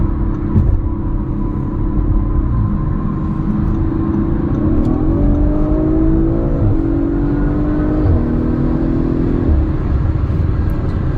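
A 2021 Audi RS5 Sportback Ascari Edition with a turbocharged engine accelerating hard in dynamic mode: a loud, deep cabin rumble climbs in pitch through several gear shifts, with no talking.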